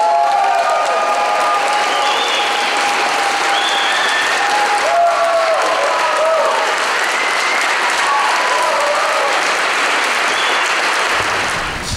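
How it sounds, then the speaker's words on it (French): Wedding guests in a church in St-Élie-d'Orford applaud the newlyweds' kiss with steady, sustained clapping that fills the room, joined by a few faint cheers and murmurs. "j'invite maintenant les nouveaux mariés à s'embrasser pendant qu'on les applaudit"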